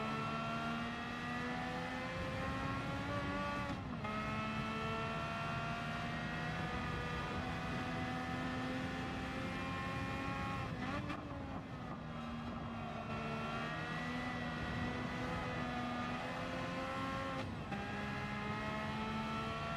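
A race car engine in Gran Turismo 7 howls continuously near the top of its rev range, dipping briefly at a few gear changes before climbing again, steady and fairly quiet in the mix.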